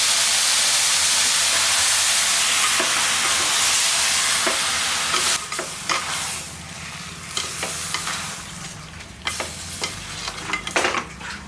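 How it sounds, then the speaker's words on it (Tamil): Goat head meat sautés in a hot pan, a loud, steady sizzle and hiss filling the first half, then a ladle stirring and scraping it in repeated sharp strokes over a softer frying bed. "பாருங்கள் இந்த கறியை நல்லா வதக்கியாச்சு"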